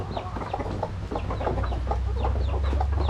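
Farm chickens cluck repeatedly in short, choppy calls over a low background hum, steady and moderately close.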